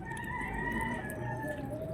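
Chickens on a backyard farm in the Philippines, one of them a Mindanao breed, with steady sustained calls and a drawn-out crow-like tone held over continuous low farmyard background; no speech.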